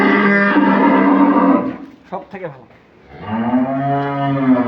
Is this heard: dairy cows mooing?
yes